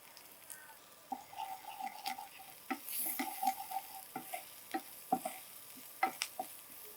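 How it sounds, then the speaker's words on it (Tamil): Onions sauté with a little turmeric in a pan for an idli dish, a soft steady sizzle punctuated by sharp, irregular clicks and scrapes of a spoon stirring against the pan, close up with no voices. "வெங்காயம் வதக்கிட்டு இதில் கொஞ்சமாக மஞ்சப்பொடி ஆட் பண்ணிக்கலாம்"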